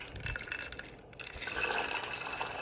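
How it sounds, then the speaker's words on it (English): Boiling water is poured from a kettle over acorns gathered from a park. A light clink of glass or metal comes first, then a steady, gushing splash that builds and keeps going, fairly close and moderately loud. "Finally, the water is boiling. I'm gonna pour it down."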